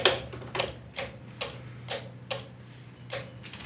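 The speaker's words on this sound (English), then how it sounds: "we should hear that carburetor solenoid click" Carburetor solenoid on an engine clicking in a steady rhythm: faint, sharp ticks roughly twice a second over a low background hum, with no talking.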